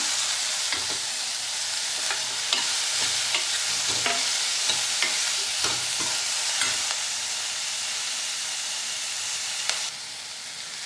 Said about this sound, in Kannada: ಈಗ ಇದೆಲ್ಲ ಚೆನ್ನಾಗಿ ಫ್ರೈ ಆಗಿದೆ. ಇದಕ್ಕೆ ಕಟ್ ಮಾಡಿ ಅಂತ ಟೊಮೆಟೊ ಹಾಕೊಳ್ಳೋಣ